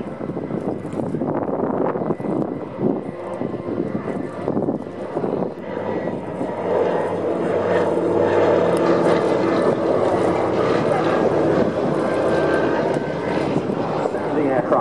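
Consolidated PBY-5A Catalina flying boat making a flying display at RIAT, RAF Fairford, its piston engines droning steadily as a broad, rising roar across the whole stretch, with a commentator talking over it.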